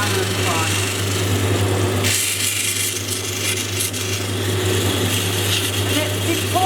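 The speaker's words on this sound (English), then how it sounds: "it's important that you keep moving across the wheel so you don't get flat spots in the pad or in the face of the stone" An opal stone is pressed against a spinning polishing wheel, giving a steady, fairly loud machine drone with a strong low hum and a brighter grinding hiss that swells after a couple of seconds, with quiet talk underneath.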